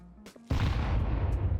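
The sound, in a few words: grenade explosion in the video game CS2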